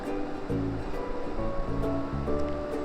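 Whole potatoes fry in hot oil in a pan, a continuous close sizzle and bubbling crackle with low, uneven murmuring beneath it.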